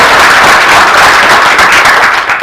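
A comedy audience claps as a comedian walks on stage, producing dense, loud and steady applause throughout the short stretch.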